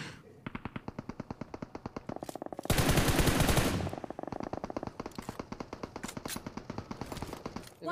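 Gunfire in the mobile shooter BGMI (Battlegrounds Mobile India): rapid, evenly spaced automatic shots rattle on throughout, broken by a denser, louder burst of sustained fire in the middle before the steady shot rhythm resumes.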